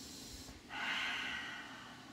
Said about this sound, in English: breathe 5 more deep breaths